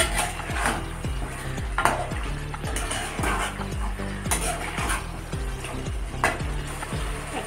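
A spoon scrapes steadily through Bengali chicken kosha frying in a pan, sounding as regular rhythmic strokes about twice a second over a light sizzle.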